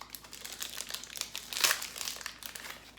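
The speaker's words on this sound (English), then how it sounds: "So it's wrapped in this kind of waxy paper," Waxy paper wrapping is crinkled and peeled off a cleansing bar, a run of close, soft crackles with one sharper rustle partway through, no talking.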